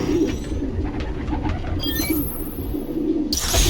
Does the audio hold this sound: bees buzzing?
no